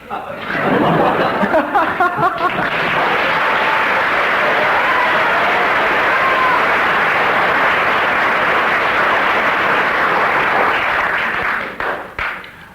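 Loud studio audience applause at a British radio comedy panel show, a sustained wash of many hands clapping for about eleven seconds with some laughter near the start, then tapering off at the end.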